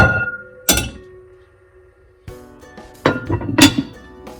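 A lid thunks onto a pot of chicken kofta curry with white gravy; a few sharp metallic knocks and clinks come close, separated by short quiet gaps.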